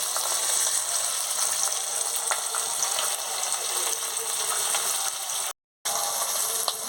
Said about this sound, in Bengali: তেলটা গরম হয়ে গেছে, এবারে মাছের মাথাটা দিয়ে দিচ্ছি